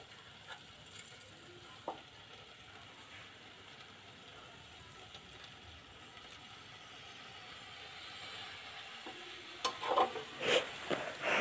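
Rice, potatoes and chicken fry in a pot while being stirred, a quiet sizzle with sparse scraping clicks that builds into louder, busier clattering stirs near the end.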